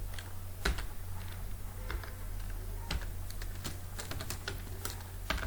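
Computer keyboard keys clicking as HTML code is typed for a website, irregular bursts of close taps over a low steady hum, no voices.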